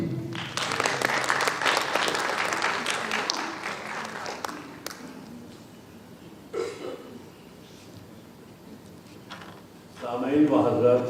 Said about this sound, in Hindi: आप लोगों की तालियों के बीच